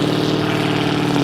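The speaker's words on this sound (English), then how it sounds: "God, I hate loud cars." A loud car engine roars steadily and close by as it passes in a Phoenix neighborhood, a harsh droning rumble with no voices over it.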